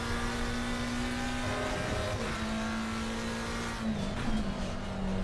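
A sports car engine drones loudly and steadily for several seconds, its pitch dipping and rising as it revs while driving, with no voices.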